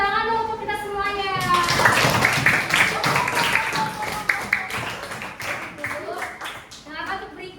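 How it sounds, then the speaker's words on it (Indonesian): A class of children in a lesson applauding everyone, a burst of scattered clapping mixed with excited kids' voices and chatter, starting after someone speaks and continuing in uneven bursts. "Tepuk tangan dong untuk kita semuanya"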